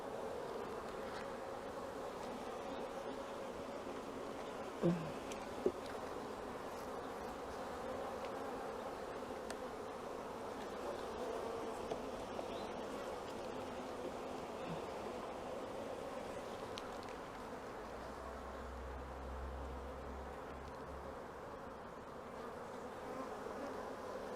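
Honey bees and drones in an open hive: a steady, dense buzzing hum that fills the whole stretch, close and even, with a couple of faint clicks and no talking.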